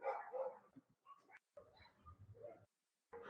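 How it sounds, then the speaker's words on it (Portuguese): Several dogs bark in the background of a home-office setting, giving faint, scattered yips and barks with short silent gaps between them. "vocês vão ter que aguentar esses cachorros no fundo"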